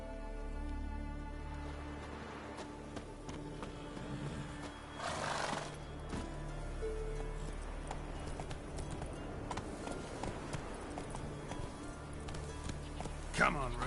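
The horse Roach in The Witcher 3 clip-clops along at a steady walk, with a neigh partway through, over ambient outdoor background and occasional talk.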